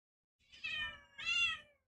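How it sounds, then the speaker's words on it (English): A pet cat gives two drawn-out meows in quick succession, close and clear with no talking over them. "she was meowing a lot"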